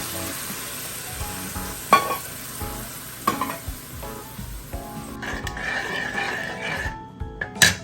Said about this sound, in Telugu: దీన్ని ఈ ఆయిల్లో వేసి ఒక్కసారి బాగా ఉడికించుకున్నాం.